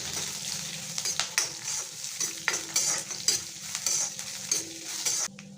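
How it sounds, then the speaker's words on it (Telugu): Finely chopped ginger frying in a pan for amla rasam, a steady close sizzle with repeated scraping and stirring strokes of a utensil against the pan, no talking. "అందులోకి 1 స్పూన్ అల్లం సన్నగా తరిగి పెట్టి వేసుకోవాలి. దీన్ని బాగా కొద్దిసేపు వేగనిచ్చుకోవాలి."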